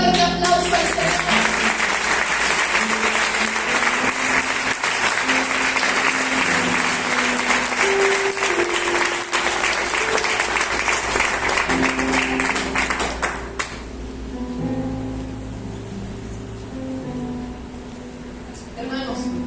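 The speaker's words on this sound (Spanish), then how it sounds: "dale un fuerte aplauso al Señor" Church congregation at Iglesia Luz y Vida la Candelaria applauding loudly and steadily for about thirteen seconds, then the clapping thins out and fades beneath a lingering hum and quieter room sound.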